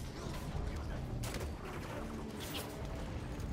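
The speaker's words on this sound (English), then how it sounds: "join the army of green projectiles soaring through the air by firing your own fuel rod cannon" Bursts of heavy weapon fire in Halo 5: Guardians, a fuel rod cannon blasting repeatedly amid a dense, noisy wash of explosions and gunfire.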